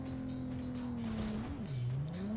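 A car's engine drones steadily off-road in Cyberpunk 2077, its pitch dipping and rising as it revs, with tires scuffing and bumping over rough ground.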